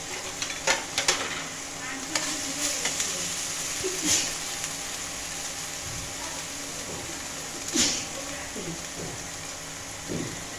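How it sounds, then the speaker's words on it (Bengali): Spiced pumpkin with salt and turmeric being sautéed in a pan, with a steady sizzle broken by sharp scraping stirs and a few soft background sounds. "এরকম ভালো করে এবার আমি এটাকে কষাবো"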